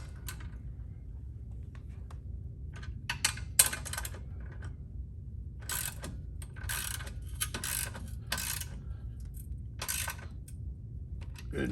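A ratchet tightens the belt tensioner bolts on a 2014-2019 Can-Am Spyder RT, clicking in short, close bursts of rapid pawl ticks separated by quiet pauses over a low background hum.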